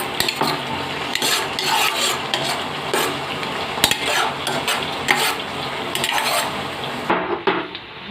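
Cashews and raisins fry in ghee for carrot halwa with a crackling sizzle, while a metal spoon clatters and scrapes repeatedly against the pan, close and fairly loud.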